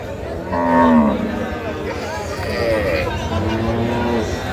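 A dairy cow moos at a rural livestock market in Kaharol, where Sahiwal, Sindhi and local breed cows and calves are sold. Several drawn-out moos stand out near the start and middle over steady crowd chatter and nearby talking.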